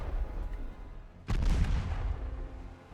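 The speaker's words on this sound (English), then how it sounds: "And the rest of them exploded." Torpedoes detonating aboard a warship in Ultimate Admiral Dreadnoughts, a sudden heavy blast followed by a rumbling, crackling wash of explosions that slowly fades.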